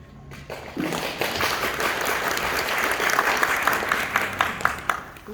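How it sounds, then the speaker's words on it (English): An audience breaks into applause after a recited poem at a literary author event, dense clapping rising quickly and sustained for several seconds with a few sharper claps near the end. "Everyone clapped at this audacious feat to recite the poem"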